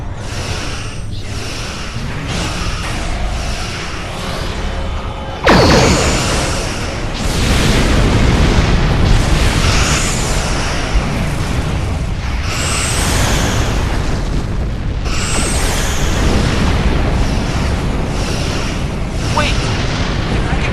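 Star Trek Online starship battle, with weapons fire and repeated heavy booming explosions from ships rolling on almost continuously, loud and dense, layered over a rumbling mix with voices occasionally present.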